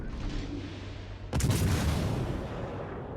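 A single heavy boom of warship guns firing in World of Warships Legends from a Tier 6 Weimar, cutting through a steady rumbling background and trailing into a long low rolling decay.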